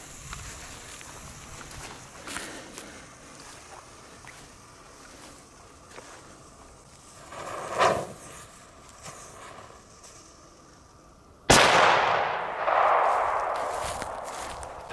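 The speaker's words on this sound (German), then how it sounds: "Der erste Böller mit Blitzknall." A German flash-bang firecracker (Böller) set off outdoors in a firecracker test goes off as one sharp, loud bang late in the clip, then a lingering decay. Quiet outdoor ambience comes before it and no one speaks.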